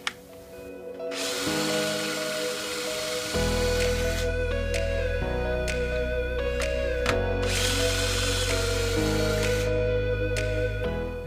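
Power drill boring into wood through a dowel jig: a loud, sustained motor whine that shifts pitch in stages as the bit loads and frees, running continuously for about eleven seconds.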